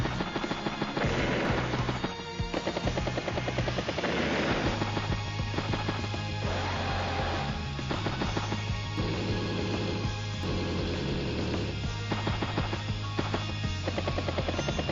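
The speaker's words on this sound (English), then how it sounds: "Battlecopter anti-air does get a good shot there." An anti-air unit fires on a battlecopter in Advance Wars: Days of Ruin. Rapid, repeated gunfire bursts sound over steady game music at moderate volume.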